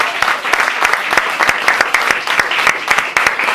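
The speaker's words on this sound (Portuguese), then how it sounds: "você pode aplaudir o Senhor bem forte" A church congregation claps loudly and steadily for God, dense overlapping hand claps filling the room with a few sharp accents, continuous for several seconds.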